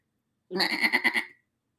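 A goat bleats once in a video game, a loud, close, wavering call lasting under a second with a quavering pulsed rhythm, heard alone against silence.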